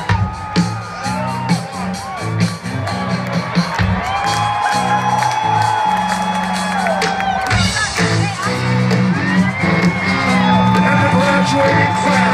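Concert crowd at a live show in 2015, loud whooping, shouting and cheering from many voices close by, continuous and rising near the end.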